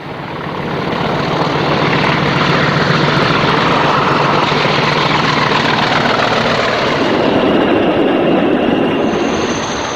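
A British Railways Class 40 diesel locomotive, number 40-142, passes at Scraniston heading for Miller Hill, a loud, sustained engine roar with broadband rumble that swells in and holds steady for ten seconds.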